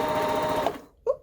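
A serger sewing machine stitching fabric, running with a fast, steady mechanical whir for under a second, then stopping abruptly, followed by a brief clunk or voice.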